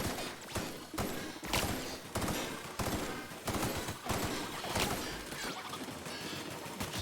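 Rapid bursts of gunfire from a weapon in The Outer Worlds video game, a dense run of loud repeated shots with brief pauses between volleys, filling the whole stretch with no talk.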